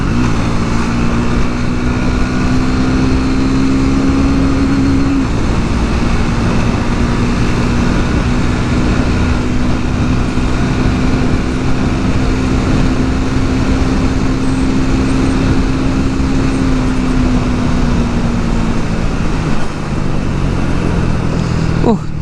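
A Triumph Speed 400 motorcycle accelerates hard through its gears on a highway, a steady engine drone rising in pitch with gear changes around five and seventeen seconds, loud and close with wind noise throughout.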